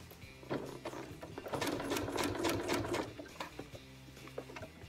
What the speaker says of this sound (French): c'est conseillé de coudre juste par-dessus, en enlevant les épingles au fur et à mesure